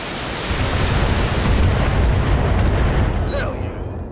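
A turret being destroyed in the mech combat game Battletech sounds as a loud, sustained explosive roar and rumble that swells over a few seconds and then slowly fades, with a few faint electronic tones near the end.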